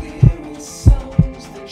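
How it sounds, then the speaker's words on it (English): An unborn baby's heartbeat comes through as deep, muffled thumps, three close, loud beats over a low hum, with no voices. "the precious sound of her very own heartbeat"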